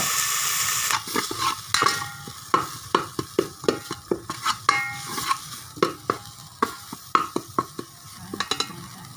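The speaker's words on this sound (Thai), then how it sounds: "น้ำมันเล็กน้อยแล้วพริกแกงเราไปคั่วเลยครับ" Thai curry paste roasting over low heat in a little oil, with a steady frying sizzle and a brisk, regular series of utensil scrapes and taps against the pan, close and fairly loud, with no speech.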